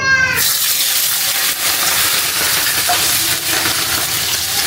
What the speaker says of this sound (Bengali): এই গরম হয়ে যাওয়া তেলে আমি এখন পেঁয়াজ আর মরিচটা এটা দিয়ে দেব